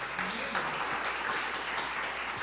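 A church congregation applauds during a Portuguese-language sermon, producing a continuous wash of clapping that stays moderately quiet and steady throughout, heard from a distance in the room.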